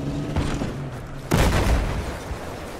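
A sudden loud boom of an explosion in Battlefield 4 cuts in midway, followed by a rumbling decay over low game background noise.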